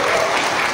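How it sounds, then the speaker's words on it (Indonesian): An audience claps steadily and loudly at a parliamentary gathering, in one brief, dense burst of applause. "Kalian jangan tepuk tangan seperti itu."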